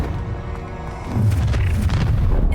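A Confringo spell blast in Hogwarts Legacy, a deep rumbling boom swelling up after a low steady background, loud and close, lingering to the end.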